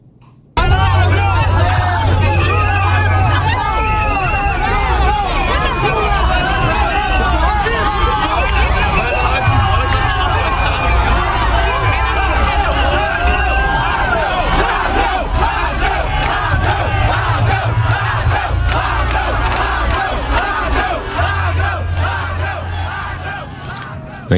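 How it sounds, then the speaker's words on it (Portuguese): A large crowd boos and heckles Lula and his entourage during a political visit in Pernambuco, with dense, loud shouting, jeers and babble that continue throughout and fade slightly at the end. "Lula e sua comitiva foram vaiados e o petista foi chamado de ladrão"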